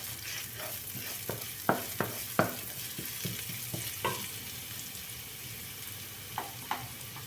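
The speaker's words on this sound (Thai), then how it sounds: "เราก็จะมาทำการทอดหมูก่อน" Steady frying sizzle of pork in a pan, punctuated by sharp clinks and scrapes of a utensil stirring, close and fairly quiet, no talking.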